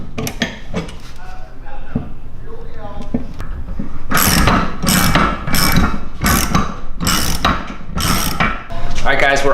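A ratchet clicks sharply as it tightens 6-inch bolts on a wall-mounted Murphy rack. The loud metallic strokes come in a steady series of repeated bursts, close by, with someone talking before the cranking starts.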